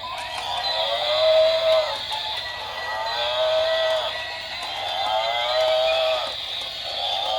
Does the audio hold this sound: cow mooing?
yes